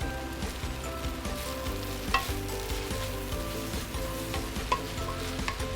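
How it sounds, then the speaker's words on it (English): Singapore-style rice vermicelli stir-fried in a wok, a steady close sizzle with occasional scrapes and clinks of the spatula, no voices. "you don't want to stir fry for too long because you don't want to break the beehoon too much also"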